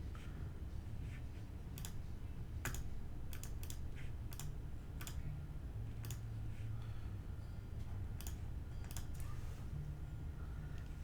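Sharp, scattered computer clicks, probably a mouse, tap out an irregular pattern of single and paired clicks close to the microphone over a steady low hum, with no voices.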